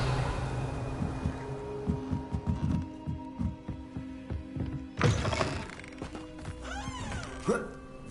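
A Revelio spell is cast in Hogwarts Legacy on PS4, giving a bright shimmering whoosh over a low game hum and scattered thuds, with a second, shorter swell following soon after.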